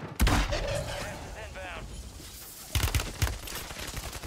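Gunfire with hollow point rounds in Warzone 3: a burst of sharp shots up front, then scattered cracking reports and short volleys further on, heard under talk with game ambience throughout.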